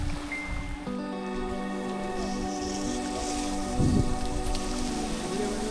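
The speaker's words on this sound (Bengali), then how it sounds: "যে টিপ বৃষ্টি শুরু হয়েছে।" Light rain patters steadily over a lotus lake, a soft continuous drizzle hiss mixed with a low, sustained droning hum throughout.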